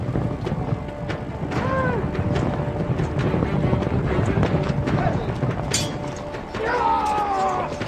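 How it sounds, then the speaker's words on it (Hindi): Horses carrying riders approach in a televised drama episode, with clip-clop hoofbeats and wind-like noise building over several seconds, mixed with other soundtrack sounds and speech. "अब घोड़े सवार वाले आ चुके हैं इस साइड से।"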